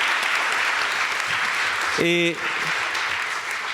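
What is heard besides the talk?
applause from the audience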